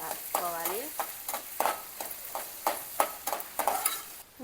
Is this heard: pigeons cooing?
no